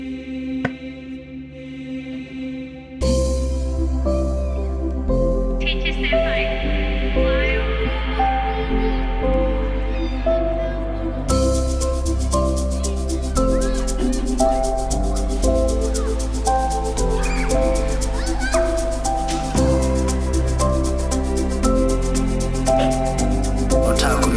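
Amapiano orchestral arrangement built in FL Studio, with strings, a blip lead and a female choir playing together in the same key over a steady log-drum bass groove; a quieter opening swells into a full, dense mix after about three seconds.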